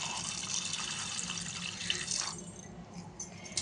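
Water poured into a bowl of soaking lentils with split moong dal, a steady faint trickle and splash that breaks into a few scattered drips toward the end, heard alone with no talk.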